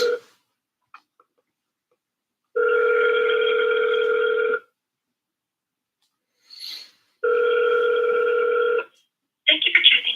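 An outgoing phone call rings on the line: two long, steady electronic ring tones separated by silence, clear and close, with brief noises between and after them.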